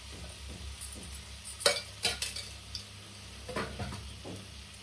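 A ladle stirs chicken curry frying in oil in a pot. Quiet sizzling carries a few sharp scrapes and clinks of metal against the vessel, with no one talking.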